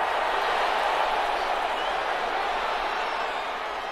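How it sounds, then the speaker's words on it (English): Stadium crowd at an NFL football game between the New England Patriots and Los Angeles, a dense, steady roar of cheering and noise that stays loud and constant throughout. "the crowd getting into it as we come up on a big third down"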